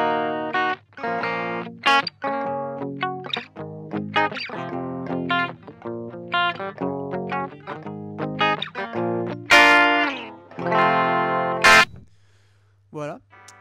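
An electric guitar plays through a Blackstar HT Studio 20 amp with the reverb switched off, giving a dry, slightly overdriven tone in quick phrases of notes and chords that end on a few ringing strums.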